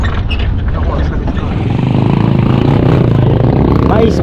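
A motorcycle loaded with sacks of corn slung on both sides runs at a steady engine drone, its tone rising slightly as it passes close by, while people talk over it.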